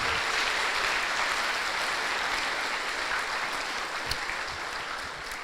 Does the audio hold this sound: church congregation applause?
yes